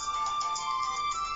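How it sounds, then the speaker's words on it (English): A phone notification chime plays as a steady electronic tone pattern with repeating bright pulses, close and clear, with no voices over it. "I got some notification."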